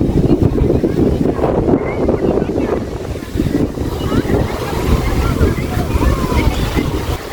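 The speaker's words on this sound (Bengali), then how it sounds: "আর জলের আজকে ঢেউটা একটু বেশিই আছে।" River waves lap and surge along the Belari riverbank on a hot day, a continuous loud wash of water heavily mixed with gusting wind buffeting the microphone.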